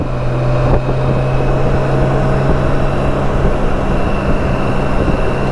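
BMW K1600 GTL six-cylinder touring motorcycle on a short ride, a steady close engine drone with a held low tone and wind roar throughout, no voices.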